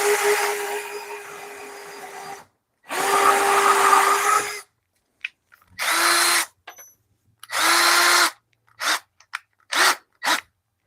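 A power drill whirs in bursts: two long runs, then several shorter pulses and quick trigger taps, close and loud with quiet gaps between.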